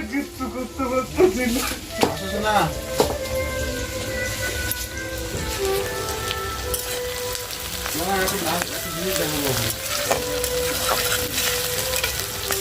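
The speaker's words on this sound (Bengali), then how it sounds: "এখানে আমি পেঁয়াজটা প্রথমে ভাজা করে নিচ্ছি" Chopped onions frying in a pan give off a steady, dense sizzle with occasional clinks and stirring scrapes, continuing for the whole stretch at close range.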